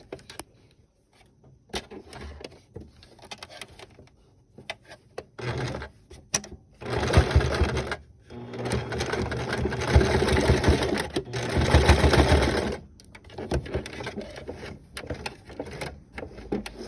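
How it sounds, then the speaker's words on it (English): A sewing machine stitches a stretch velvet mask, whirring in short bursts and then in longer steady runs, loud and close, without anyone speaking. "go sew your other side the same way"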